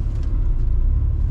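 Low, steady engine rumble and road noise from an Audi A3 3.2 Quattro 8P with a manual gearbox while driving, heard from inside the car, continuous and fairly loud with no talk.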